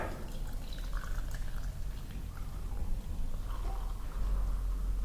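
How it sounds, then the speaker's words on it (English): Boiling water is poured from a kettle onto dried wormwood in a mug to make tea, a continuous close splashing pour with a faint trickling edge, no talk over it. "Now let's get our water, boiling water. So we'll fill this one first, fill our wormwood."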